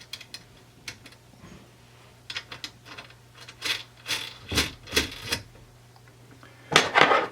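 A wrench tightens nuts on inverter cable ring terminals at a battery's positive and negative posts, giving scattered faint metallic clicks and ticks that cluster into a few sharper taps, then a brief louder rattle.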